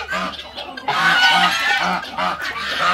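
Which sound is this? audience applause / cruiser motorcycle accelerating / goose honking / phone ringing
goose honking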